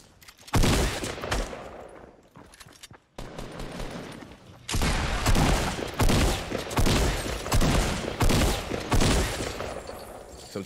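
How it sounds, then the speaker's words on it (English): Fortnite gunfire aimed at a bike, heard as dense volleys of rapid shots in long bursts with a short pause between them, loud and close, with no talking. "Are you just like shooting at the bike?"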